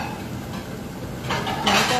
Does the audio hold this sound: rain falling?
no